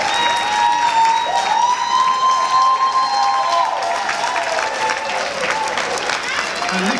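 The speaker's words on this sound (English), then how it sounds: "I need a bigger hand of applause" A speech audience at a Tanzania Day 2019 event gives a loud, steady round of applause throughout, with a sustained tone and some voices mixed into the crowd.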